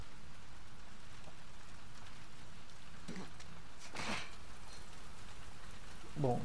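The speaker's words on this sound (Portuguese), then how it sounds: "Tá chovendo." Steady rain in the video game The Last of Us Part II falls in a constant close hiss, with a few brief knocks and thuds over it.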